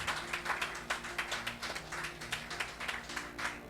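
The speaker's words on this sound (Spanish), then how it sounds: "¿Cuántos le dan un aplauso al Señor?" A church congregation applauding the Lord fills the space with steady, dense clapping from many hands, loud and continuous with distinct sharp claps standing out on top.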